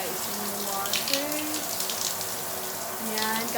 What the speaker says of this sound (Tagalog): kung isi-switch mo yung shower naman, para umandar yung water